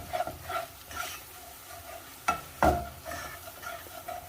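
A spoon stirs flour into a mixture in a pan for a mini pizza, with steady scraping strokes over a soft sizzle and a couple of sharper knocks against the pan.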